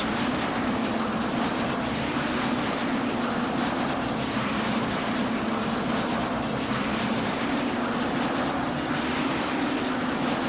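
Aircraft engine in Saints Row The Third running steadily in flight mode, a loud continuous droning roar with a strong low hum that holds even throughout, with no voices over it.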